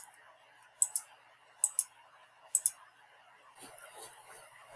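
Crisp computer mouse clicks come in three quick double pairs, evenly spaced and close, over a quiet room hum, with a faint murmur at the end.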